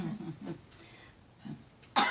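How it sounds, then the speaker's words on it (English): A few short, dry coughs close by, separated by brief pauses, with a sharper, louder cough at the end. "Straight away I'll start coughing."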